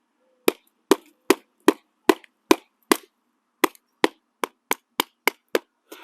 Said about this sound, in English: I'm just going to shave off edges of that. I'm going to baton down in.